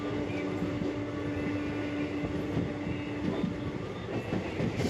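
A train runs steadily along the rails on a pilgrimage journey in India, with a continuous loud rumble and a repeating clickety-clack of wheels over the track joints throughout.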